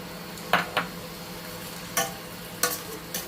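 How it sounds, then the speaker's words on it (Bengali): Spice masala with salt and tomato paste sautéing in a pan, a low steady sizzle under several sharp spoon scrapes and clinks against the metal, spaced irregularly. "ভালো করে একটু মশলাটা কষে নেব টমেটো পেস্ট দিয়ে দিচ্ছি"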